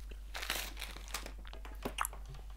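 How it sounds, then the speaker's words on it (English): Someone bites into and chews a chewy English toffee fudge candy up close, with crinkly, sticky crunching bursts over a low steady hum and no talking. "So let's have a bite. These are quite strong"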